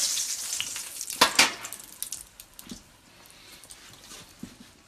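Pizza pan-frying in very hot oil, giving a steady crackling sizzle with sharp pops and spatters, close and fairly loud at first before settling into a softer, continuous fry.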